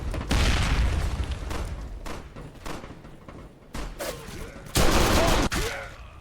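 Explosive booms and bursts of gunfire in the video game Counter-Strike 2 come in rough, dense waves, with a loud blast near the end, heard alone without talk.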